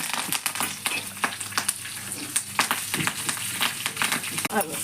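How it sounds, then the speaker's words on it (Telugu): Urad dal, mustard seeds and cumin fry in hot oil for tempering, giving a dense, busy crackle with frequent sharp pops and spatters close by, while a voice murmurs faintly underneath. "తాలింపు మినపచెక్కు, ఆవాలు, జీలకర్ర"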